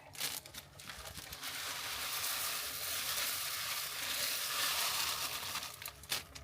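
Boil-in-bag rice is added to a hot pan on a camping stove at an RV park, and a steady, moderately loud sizzle follows with faint stirring and crinkling noises.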